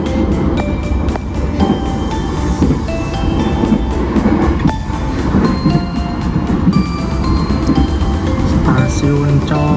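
Motis freight train of Indonesian railways rolling along the rails near Comal station, a steady loud rumble with rhythmic clatter and squeals running throughout.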